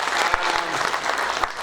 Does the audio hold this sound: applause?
yes